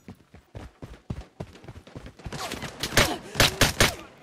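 Gunfire in the video game Lost Light: a run of loud, sharp shots clusters in the second half, following quieter clattering game sounds.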